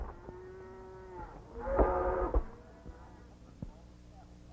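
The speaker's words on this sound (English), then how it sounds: "That guy's paying off to Hepburn for all those cattle" Cattle on a western ranch let out a long, loud moo, with quieter lowing and voices in the background before and after.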